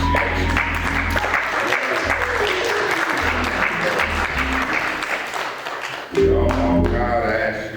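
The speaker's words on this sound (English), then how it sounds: "hand clap of appreciation" A church congregation gives a long round of dense applause, steady and full for several seconds. A deep hum runs underneath it, and a swell of voices and music comes in near the end.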